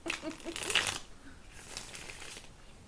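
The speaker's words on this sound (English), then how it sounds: "So I'll try to shuffle over here so the wind from the cards goes elsewhere." Tarot cards shuffled by hand close to the microphone, a crisp riffling burst followed by softer, fainter ruffling and flicking at a quiet level.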